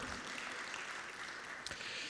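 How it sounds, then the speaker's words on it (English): An audience at a technology conference applauds, a faint, steady patter of clapping that carries on evenly for a couple of seconds. "this calls for a round of applause"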